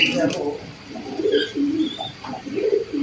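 Pigeons coo softly in low, rolling murmurs, with people talking nearby.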